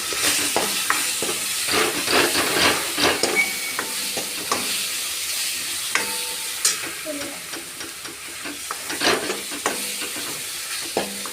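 Masala sautés in a pan with salt, sizzling steadily up close while a utensil scrapes and stirs in irregular clatters.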